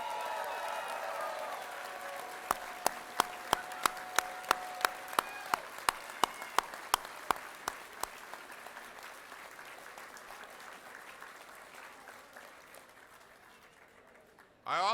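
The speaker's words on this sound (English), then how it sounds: "a big round of applause." Audience applause at an election night DFL party, a broad sustained crowd clapping with some sharp individual claps standing out near the start, fading gradually toward the end.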